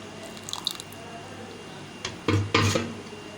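Blended marinade paste poured onto raw chicken pieces for chicken malai handi, giving a couple of close, soft wet splats and squelches after a quiet, faintly dripping start.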